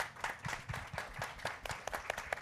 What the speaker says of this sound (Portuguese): eu queria pedir uma salva de palmas para todos.